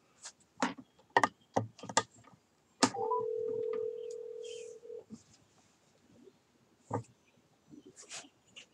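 A cell phone dials out to call back: a run of sharp key taps and clicks, then a steady tone of about two seconds, followed by a few more scattered clicks and faint sounds.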